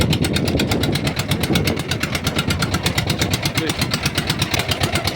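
A diving air compressor engine runs steadily and loudly at close range, with a fast, even pulsing throb throughout.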